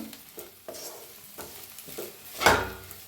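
Okra being stirred in a frying pan with salt and red chili powder, giving soft scraping strokes over a low sizzle, with one louder scrape near the end.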